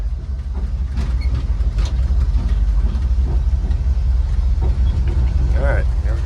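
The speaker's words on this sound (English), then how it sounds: "The truck's loud, and these mics on these iPhones really exaggerate the sound." A loud, steady engine rumble from a 1950 Chevy pickup truck runs throughout, heard from inside the cab with road noise.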